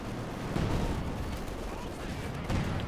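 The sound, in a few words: mortar fire in video game Company of Heroes 2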